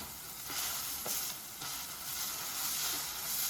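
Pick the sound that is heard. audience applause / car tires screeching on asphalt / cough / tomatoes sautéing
tomatoes sautéing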